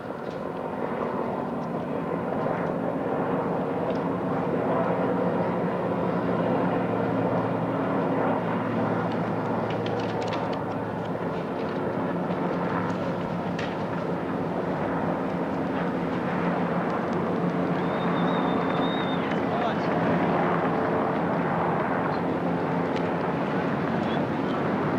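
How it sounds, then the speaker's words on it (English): Aircraft arrive for a flypast at the 1988 Australian Bicentenary celebration, during the fleet arrival. A broad, continuous roar holds steady throughout, with faint voices underneath. "here we see right now the first of the aircraft arriving"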